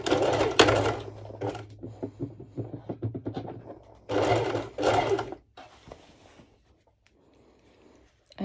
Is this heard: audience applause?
no